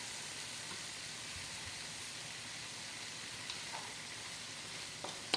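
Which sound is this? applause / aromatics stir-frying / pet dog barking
aromatics stir-frying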